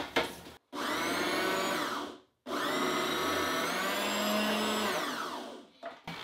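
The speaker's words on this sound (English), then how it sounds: "I also like using the food processor because it turns it into mush" A food processor chops onion for latkes into mush in two loud whirring bursts, a short pulse and then a longer steady run, separated by a brief pause.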